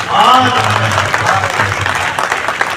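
An audience at a Hindi poetry recital claps together, a dense wash of applause heard close, with some voices mixed in under it.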